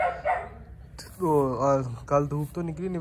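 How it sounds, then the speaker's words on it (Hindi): A dog barks from inside a shed, its yelping barks fairly near and loud, mixed with someone talking over it. "वो अंदर उसकी भौंकनी की आवाज़ आ रही है ना"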